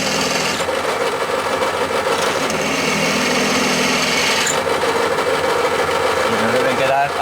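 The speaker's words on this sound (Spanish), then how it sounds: "lo vamos a avellanar un poquito con una broca un poco más grande" Electric drill countersinking holes in recycled cartons with a larger bit, a continuous close grinding and rasping whir that holds steady throughout with slight changes in pitch.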